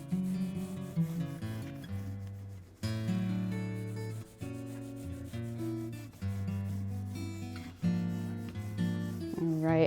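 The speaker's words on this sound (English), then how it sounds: "we'll just rub that right in, get rid of any dirt, polish the frets at the same time" Steel wool rubs across the frets and fretboard of an electric guitar in steady back-and-forth strokes, close and fairly quiet, with a soft rhythmic scrubbing texture throughout.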